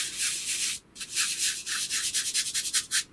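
Pastel rubbed across paper with a blending stump, a close, soft scratchy friction in quick repeated strokes with a brief pause, the strokes growing shorter and more rhythmic toward the end.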